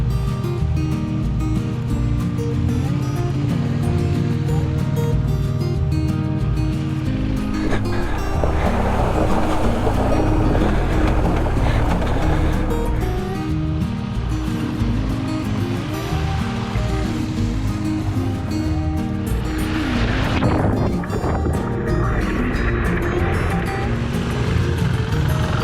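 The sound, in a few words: adventure motorcycles riding through a water crossing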